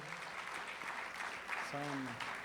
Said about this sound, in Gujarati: એમને એક વખત જોરદાર તાળીઓથી વધાવો